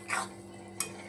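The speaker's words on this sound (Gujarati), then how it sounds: "ગોળ ગળી જાય ત્યાં સુધી ધીમે ગેસે હલાવવાની. ચમચો ફેરવતો રહેવાનો" A metal spoon scrapes and stirs melting jaggery in a pot over low heat: two short clinking scrapes, one early and one sharper near the end, fairly faint against a quiet background.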